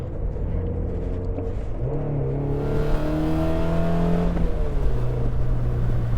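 A Mazda Miata's engine pulls through the revs around Alastaro Circuit in Finland, heard from inside the car as a steady droning climb in pitch, a brief dip at a shift near 4,000 RPM, then rising again.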